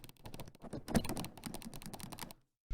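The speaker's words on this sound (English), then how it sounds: "Nice little mouse click." Rapid, light clicking of controller buttons fitted with mouse-click switches, pressed in quick succession, crisp and close, stopping abruptly near the end.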